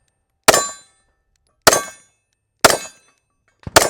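Four sharp, loud shots fired at an even pace from an M&P Carry Comp or Canik MC9 Prime pistol on a range, each crack decaying quickly before the next.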